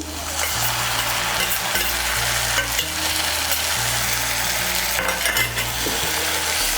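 Ginger and green chilli paste frying in a pan as it is stirred, giving a dense, continuous close sizzle with occasional scraping, over a low steady hum and no speech.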